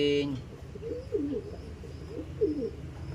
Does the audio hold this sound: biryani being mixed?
no